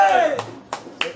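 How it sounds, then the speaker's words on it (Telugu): Clapping at a Ganesh procession, a few sharp separate claps spaced apart after a voice that fades out at the start. "చప్పట్లు."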